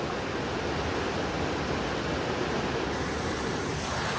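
A river in the Konkan region swollen after rain, giving a constant broadband roar of rushing water that stays steady and loud throughout with no voices.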